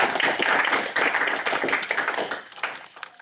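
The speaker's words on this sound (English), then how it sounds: "please help me welcome our presenters by giving them a round of applause" Dense conference audience applause welcoming presenters, a sustained wash of many hands clapping that stays loud throughout before tapering slightly at the end.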